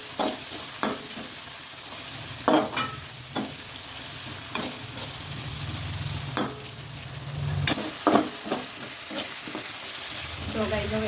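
Spiced potato mixture cooks in a pan, a steady sizzle with repeated sharp clinks and scrapes of a spoon stirring against the metal at irregular intervals.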